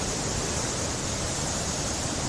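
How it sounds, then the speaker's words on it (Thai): Li Phi waterfall on Don Khon in southern Laos crashes onto rocks in a dense, continuous roaring rush of water, loud and unbroken, with no voices. "เป็นช่องทางน้ำตกไหลลงมากระทบกับหินดังคลืนคลืนเนี่ยสวยงามมากเลยจากจุดนี้"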